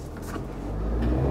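A Hyundai Casper T-GDI with a 100-horsepower turbo GDI engine accelerates in a short burst, a low, steady engine drone that builds slightly in loudness.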